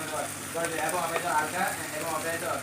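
Green chili paste, ginger-garlic paste, coriander powder, cumin powder and Kashmiri chili powder hit hot oil with chopped onion in a pan, giving a soft, steady sizzle and crackle with a faint stirring scrape, up close and quiet.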